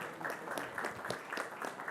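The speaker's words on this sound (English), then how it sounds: "A huge round of applause for Chef Kapoor." Audience at the NDTV Food Awards applauding Chef Kunal Kapoor, a fairly faint, uneven patter of clapping with individual claps standing out, mixed with some murmur.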